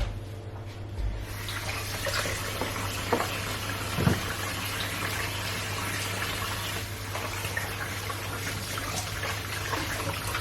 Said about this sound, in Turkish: Şu ellerimi bir yıkayacağım.